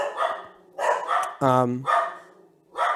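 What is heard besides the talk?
dogs barking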